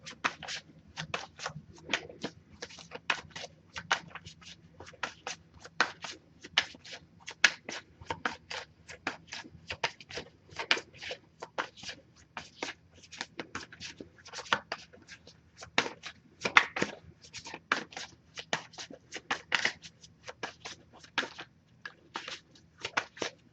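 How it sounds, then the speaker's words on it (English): A tarot card deck being shuffled, with dense rapid bursts of crisp card riffles and snaps, close and fairly quiet, continuing steadily throughout. "if I shuffle full well without anything coming up, I'll actually just put the deck down and pull cards that way"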